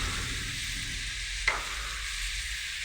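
Mango pickle for a Kerala sadya stirred in a pan, a steady soft sizzle with one brief scrape of the spoon partway through, close and alone with no talking.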